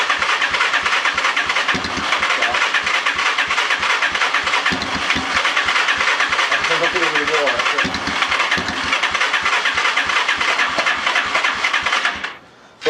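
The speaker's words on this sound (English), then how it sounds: "I hope you can hear the bikes going up and down." Lifan Earth Dragon 125 motorcycle engine running with a wiring fault, a loud continuous close-up drone with a rapid regular pulse and some wavering pitch, cutting off near the end.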